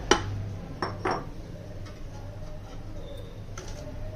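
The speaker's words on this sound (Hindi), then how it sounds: "इसके अंदर हमने आधा किलो गोश्त जो है वो डाल देना है।" Half a kilo of washed beef goes into a metal pressure cooker for beef aloo gosht, giving a few faint clinks and knocks early on before a quiet kitchen hum settles in.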